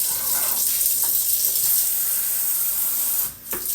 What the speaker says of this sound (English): I'm going to add a little less water to it